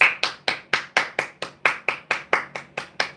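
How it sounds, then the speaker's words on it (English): Hands clap in a steady, fast rhythm, about fourteen sharp, close claps in three seconds, each crisp and evenly spaced, with no voices. "Everybody clap it up for Bill Gates."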